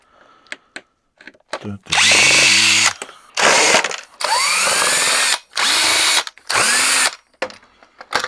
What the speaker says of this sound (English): I'm just taking screws out